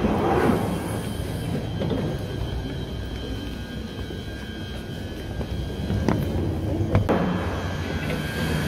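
Train at a London station, a continuous low rumble with faint squeals and clanks over hollow platform ambience, moderately distant and with no clear talk.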